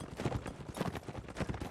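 Horse hooves galloping during a video game cavalry battle, rapid rhythmic clip-clop thuds repeating steadily and fairly close, with no talk over them.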